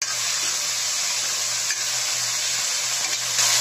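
A pinch of asafoetida hits hot oil for chickpea chole, giving a constant loud sizzling hiss close by, with a low hum underneath throughout.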